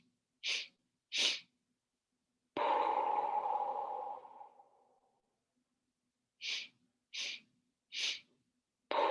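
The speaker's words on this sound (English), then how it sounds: "So as you close your eyes now, take 3 sniffs." Three quick, sharp sniffing inhales as part of a Kundalini yoga breathing exercise, then a long, steady exhale, and three more sniffs after a pause. All are close and clear with no talk.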